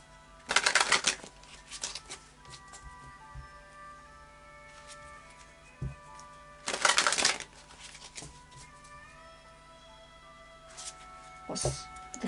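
Anna K Tarot cards are shuffled in several quick, crisp bursts, with quieter pauses between them, close by.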